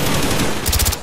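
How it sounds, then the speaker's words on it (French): Call of Duty Black Ops machine gun firing a loud, rapid, continuous burst that fills the whole second, with several sharper shots near the end. "Mitrailleuse dans la tour!"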